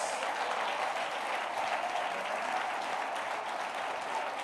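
Church congregation applauding together during a Portuguese-language celebration service, a dense, steady wash of clapping from many hands that fills the room at an even level throughout.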